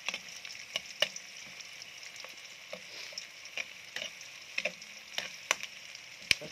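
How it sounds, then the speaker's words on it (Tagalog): Chicken tinola ingredients being sautéed in a pan, giving a steady close-up sizzle and fry with scattered sharp ticks and stirring clinks throughout, no talking. "Gisa para mas malasa."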